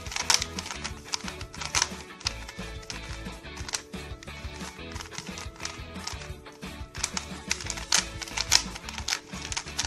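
A freshly lubricated Rubik's cube being turned and scrambled, giving dense, continuous clicking and clattering of plastic layers in quick irregular bursts, close and steady throughout.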